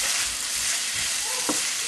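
Onions for seeni sambol fry in a pan with a dense, close hiss and a brief scrape of stirring near the end.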